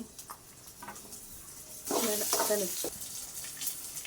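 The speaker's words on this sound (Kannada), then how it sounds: "ಒಂದು 4 ಗೋಡಂಬಿ, ಅದನ್ನು ಫ್ರೈ ಮಾಡಿ." Cashews frying in hot oil in a pan for a home-style paneer curry, a steady soft sizzle that swells louder midway with stirring scrapes, close and without talk.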